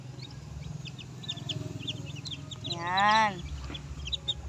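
Seven newly hatched chicks from a hen's eggs peep in faint, high, repeated cheeps beneath a nearby voice, with a louder spoken word cutting in partway through.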